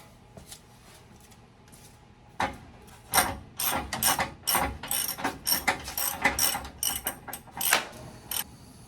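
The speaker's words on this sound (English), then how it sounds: "I gotta get in there with a wrench and it's gonna take me quite some time" A hand wrench ratchets against rusted nuts and bolts on a GMC Suburban, starting with a few faint clicks, then bursts of loud, close, rhythmic ratcheting in quick strokes with short gaps between them.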